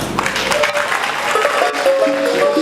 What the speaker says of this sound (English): This is the applause that your leaders deserve, not I.